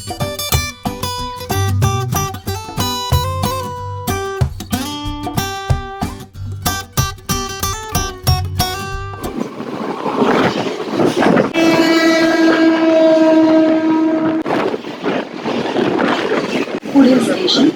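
Mumbai local train on the Western line at Andheri station, a long loud horn blast followed by the rumble and clatter of a passing train; no speech.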